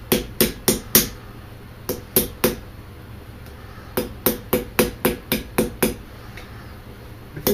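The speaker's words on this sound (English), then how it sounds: "And just keep hammering" Sharp, close hammer strikes on a forged arrow point as its edges are closed for a traditional longbow arrow, coming in quick bursts of four or five taps separated by short pauses.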